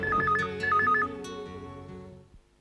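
A telephone rings with a warbling electronic trill in two quick bursts over a background music bed, then the sound fades out.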